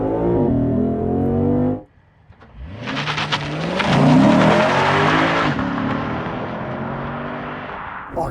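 A V8 family car in Sport S Plus mode revs hard, goes briefly quiet, then launches at full throttle, its loud engine note climbing through gear changes with a raspy roar.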